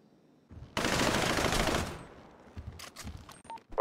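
A loud, dense burst of rapid gunfire in a GTA roleplay game lasts about a second, followed by scattered quieter shots and clicks.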